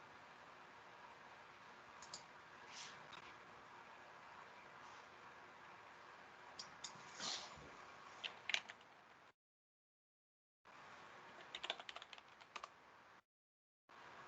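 Close, quiet typing on a computer keyboard for a Google search, with steady soft key clicks and a few sharper taps, broken by two short silent gaps.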